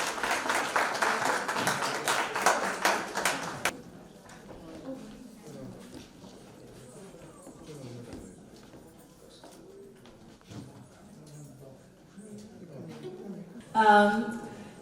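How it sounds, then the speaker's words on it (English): Applause from the audience at the Kerala Center Award Night 2025 fills the first few seconds as a dense, loud wash of clapping, then stops abruptly and a speaker talks over quiet room tone. "I think that deserves a round of applause"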